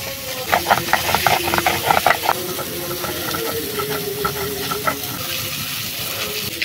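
Dover sole frying in a pan for a village-style masala curry, a steady close sizzling hiss with crackling pops clustered early and easing into a softer continuous fry.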